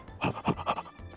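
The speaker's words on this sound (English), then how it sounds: "I hear a lot of dog panting." Dog panting in the GTA V video game, a quick series of about four breathy huffs followed by a fainter one, close and clear with no talk over it.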